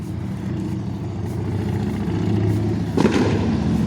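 A sharp distant Fourth of July firework bang cuts through a steady rumble of traffic and engine noise during a night walk along a canal and main street.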